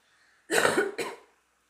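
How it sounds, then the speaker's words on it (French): Two sharp coughs close together, brought on by a fan, the first longer and harsher, the second shorter, heard up close in an otherwise quiet room. "pardon, le ventilateur me fait tousser"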